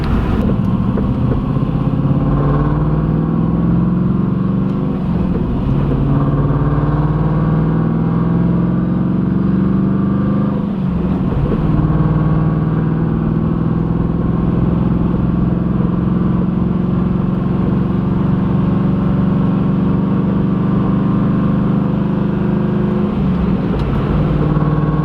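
A cammed WS6 car engine droning loud and close throughout a long highway drive, a steady rumbling idle-lope tone with gentle rises and falls as the revs shift every several seconds.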